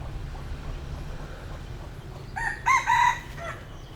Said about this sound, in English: the rooster crowing